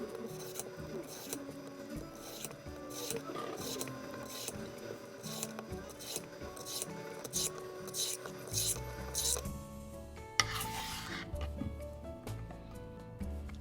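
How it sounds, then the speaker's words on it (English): A vegetable peeler shaving thin strips off a cucumber: quiet, repeated rasping strokes in an uneven rhythm, close but soft, with a faint tonal background underneath. "Peel the cucumber thinly with a vegetable peeler."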